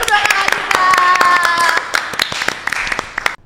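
Podcast studio audience clapping for two guests, a brisk burst of close handclaps over a background tone, with voices mixed in, fading out near the end.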